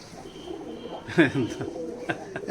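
Rajasthani Giribaz breeder pigeons coo in a few soft, low bursts close by, with faint background sounds throughout.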